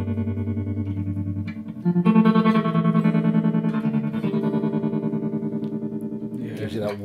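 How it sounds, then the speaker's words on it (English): Electric guitar with a light tremolo effect, held chords pulsing in a gentle, even volume wobble; loud and close, with no talking. "now let's hear just a light tremolo effect."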